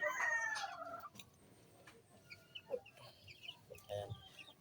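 Chickens cluck close by while a rooster crows loudly at the start, followed by scattered clucks and soft rustling.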